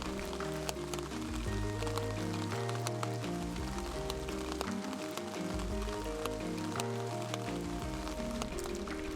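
Rain falls steadily throughout a rainy-day walk during a car-camping trip, continuous patter heard under music.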